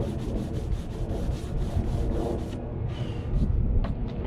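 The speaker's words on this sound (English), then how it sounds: "you can see like where I'm sanding is the top coat of the grill" Steady scratchy rubbing of sandpaper on the painted grill of a 2015 Jeep Wrangler JKU, sanding the top coat, continuous back-and-forth strokes close to the microphone, with a little wind rumble behind.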